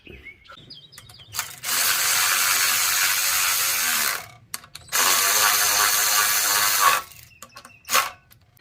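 A hand ratchet tightens the intake bolts on a Ryobi pressure washer with a Honda GCV160 engine, two long, rapid runs of close clicking separated by a pause, with scattered short clicks and faint bird chirps around them.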